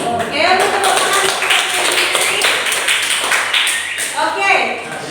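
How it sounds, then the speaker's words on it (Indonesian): An audience applauds at the end of a group presentation in a classroom session, with steady clapping from many hands filling the space and voices speaking over it. "Oke, untuk tepuk tangan."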